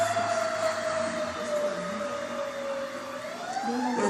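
Voices imitate an ambulance siren with a sustained, wavering wail that slides slowly in pitch, heard clearly for several seconds without other talk.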